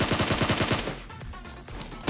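Shots in a battle royale video game ring out as a rapid string of loud gunfire bursts, then trail off into rumbling echoes before a final sharp shot.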